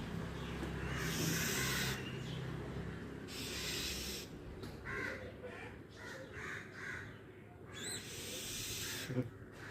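A crow caws several times outdoors near a house, harsh calls standing out over a busy, hissy background with faint voices.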